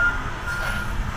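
A truck's reversing alarm beeps steadily as the vehicle backs up at a delivery, a thin repeated tone over low engine rumble and outdoor noise.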